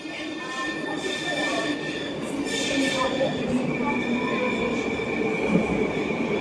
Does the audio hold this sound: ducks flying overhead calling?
no